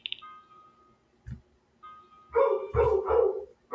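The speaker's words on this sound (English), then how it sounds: "You hear that daggone dog?" A dog barks indoors, several deep close woofs clustered together, loud and alone, preceded by faint tonal background sounds.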